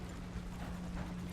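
Horse hooves beat in a steady, rapid clip-clop as the horse gallops in the Red Dead Redemption 2 video game, with continuous rumbling ground noise and no voices.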